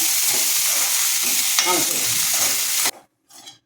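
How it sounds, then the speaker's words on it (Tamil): Mint leaves sautéing in a little oil in a pan, loud bright sizzling with scraping stir strokes up close, cutting off abruptly near the end, then a short faint burst. "இந்த புதினாவை நல்லா வதக்கிறது, நல்லா வெள்ளம் போக வதக்கிறது"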